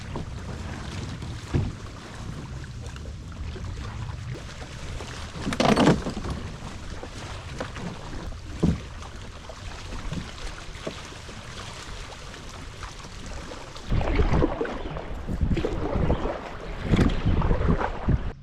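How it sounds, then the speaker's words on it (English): A small canoe paddled along a windy lake shoreline, with steady wind and water wash throughout and a few louder paddle splashes and gusts, the strongest near the end. "in my little canoe, I'm just gonna really hug close to shore and kind of weave my way around the lake"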